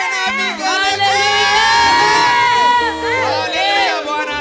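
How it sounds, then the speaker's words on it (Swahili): Church congregation at a Sunday service cheering, whooping and ululating together, a loud sustained crowd roar with rising and falling high trills across the whole stretch. "Weka shangwe na vigelegele."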